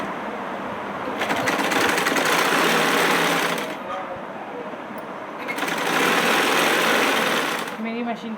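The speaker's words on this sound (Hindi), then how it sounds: "मशीन की आवाज़ भी बहुत ज़्यादा हो रही है, क्योंकि मैंने काफ़ी दिन से इसमें ऑयल नहीं डाला" A home sewing machine long left without oil stitching noisily: two loud, rattling bursts of rapid mechanical clatter a few seconds each, separated by a quieter pause, recorded up close.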